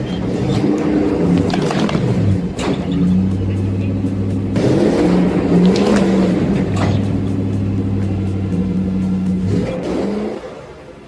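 A truck engine revs hard and accelerates in bursts, mid-pitched and loud, as it yanks an old pear tree out of an orchard by its roots, with the engine tone rising and holding between pushes.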